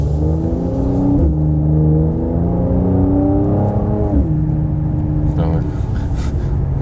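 Mercedes C43 AMG C-Class facelift (2019) with automatic gearbox climbing a hill, engine note rising steadily in pitch through two upshifts, loud and close throughout, with someone talking over it.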